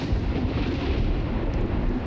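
Rumbling thunder and fireworks effects from a Planet Coaster log flume build, a dense low continuous roar with explosive bursts, loud and steady with no talking.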